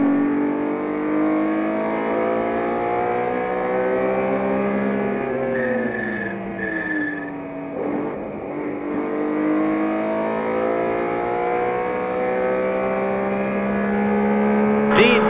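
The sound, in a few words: race cars accelerating, including a 1978 BMW M1 ProCar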